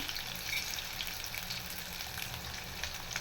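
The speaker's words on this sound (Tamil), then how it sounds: "இது கூடிய சின்ன வெங்காயத்தை போட்டுக்கலாம் இதுவும் வதங்கிட்டோம்" Small onions sauté in a pan while garlic dosa is being prepared, giving a steady, close sizzling hiss that continues throughout.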